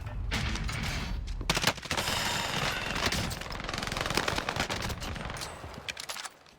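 Rapid automatic gunfire from a Warzone match fills the stretch, dense bursts of shots and mechanical clatter going near-continuously at high level with brief gaps, no talk over it.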